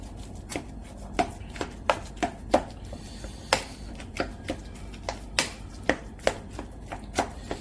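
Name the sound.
mashing steamed pumpkin with a spatula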